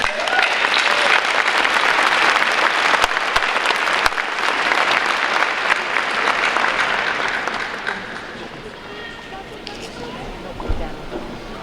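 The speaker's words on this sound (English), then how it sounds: "can we have another round of applause for the band?" A crowd at a high school graduation applauds loudly and steadily for several seconds, then the clapping gradually fades away.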